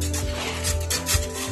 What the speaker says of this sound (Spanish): vamos a lijar todo esto para que nos quede así ovaladito